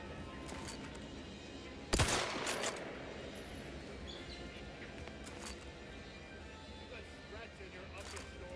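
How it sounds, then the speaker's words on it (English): Gunfire in a video game: one loud, sharp burst of shots near the start, followed by fainter scattered pops over a steady background of game sound. "I want to see what happens if I shoot something."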